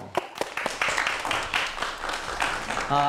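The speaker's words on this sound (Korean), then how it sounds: "박수로 청해 보도록 하겠습니다" Audience clapping to welcome a KAIST life sciences professor at a science lecture, a short burst of applause of moderate loudness with a voice at the very end.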